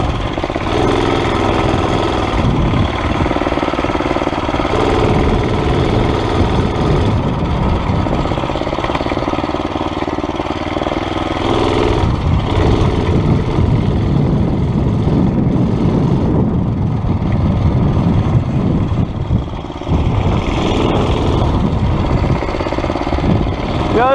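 A mini bike's small engine runs steadily and loudly up close for the whole stretch, its rough, continuous drone rising and falling slightly with throttle during a test ride.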